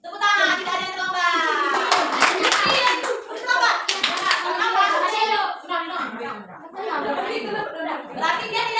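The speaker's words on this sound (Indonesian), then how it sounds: "Tepuk tangan, tidak ada yang terlambat." Children in a school classroom clap their hands together in bursts while young voices chatter and laugh loudly over and between the claps, close and lively.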